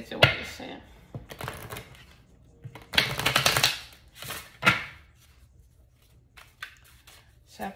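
Cards riffle and slap together in several quick bursts, separated by pauses, with a voice speaking between the shuffles.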